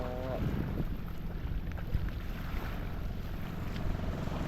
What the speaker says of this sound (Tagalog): Kakapalaot na uli ang ating bangka.